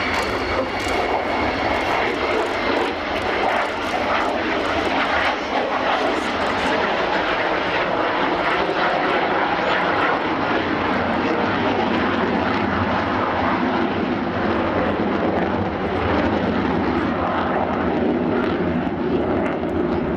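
Avro Vulcan XH558 jet bomber flying past with its landing gear down, a loud, steady, continuous engine roar that holds through the whole stretch, with a faint murmur of crowd voices underneath.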